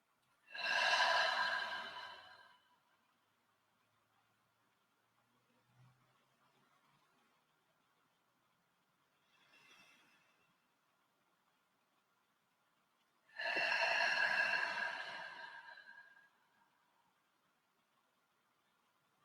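Long, breathy yawns during a guided breathing meditation: two drawn-out exhalations about ten seconds apart, each lasting a couple of seconds, with a faint short breath between them and near silence otherwise, no talking.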